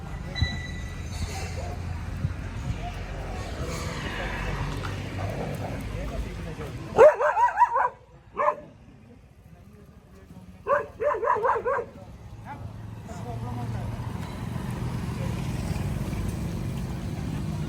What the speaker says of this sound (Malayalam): ബാക്കിൽ ഡോഗ്സൊക്കെ ഉണ്ട്.